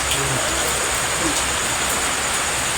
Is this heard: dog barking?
no